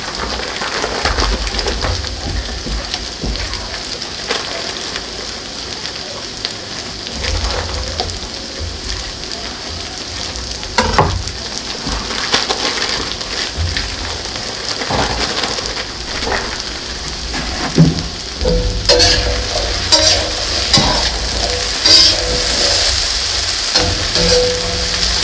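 Potatoes and bacon frying on a griddle, a loud steady sizzle and crackle close up that runs throughout, with occasional louder spits and pops.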